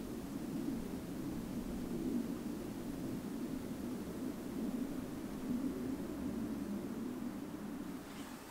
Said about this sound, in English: Third airplane in the Boundary Waters